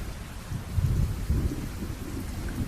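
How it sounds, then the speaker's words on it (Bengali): Thunder rumbles low beneath steady rain falling on surfaces, a dark stormy backdrop with gusty wind. The rumble swells in the middle and the rain stays constant throughout, with no voices. "বৃষ্টি থামার আর নামই নেই, ঝোড়ো হাওয়ায় যেন সব উড়ে যাবার জোগাড়"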